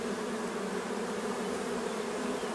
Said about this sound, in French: Donc toutes les abeilles vont sortir.